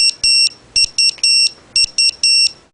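Digital watch issued for a NASA lunar mission beeping, a series of short and longer high electronic beeps in an uneven pattern with brief gaps, loud and close.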